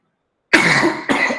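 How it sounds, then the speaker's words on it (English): A sudden harsh cough bursts out after half a second of silence, followed by a second shorter cough, close and fairly loud, from a lecturer giving a webinar on protein–DNA binding dynamics. "Sorry, I have a bad cough."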